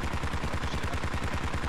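Close, continuous PKM machine gun fire in the military shooter Squad, a rapid, unbroken stream of evenly spaced automatic shots.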